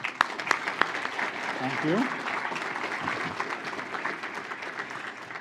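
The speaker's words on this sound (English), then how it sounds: "Another round of applause." Audience applause at a general session of a symposium, a sustained wash of clapping that swells slightly and holds steady, with a host's voice speaking briefly over it near the start.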